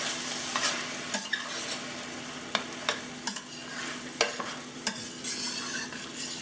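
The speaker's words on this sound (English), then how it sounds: "we're going to just go ahead and mix this all together" Philly cheesesteak filling is stirred in a hot pan, with a steady sizzle broken by sharp utensil scrapes and clicks every half second or so.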